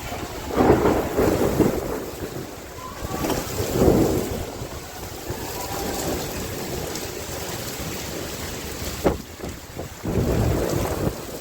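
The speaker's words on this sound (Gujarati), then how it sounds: "વરસાદ આવે" Rain falls steadily with deep rumbles of thunder rolling through, wind buffeting the microphone at times, and a sharp crack near the end.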